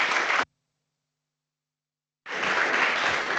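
An audience applauds after an engineer's presentation on chatbots and intelligent agents, with a brief burst of clapping, a sudden gap of silence, and then a renewed full round of dense clapping.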